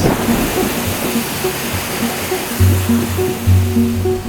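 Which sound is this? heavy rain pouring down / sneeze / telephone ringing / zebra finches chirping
heavy rain pouring down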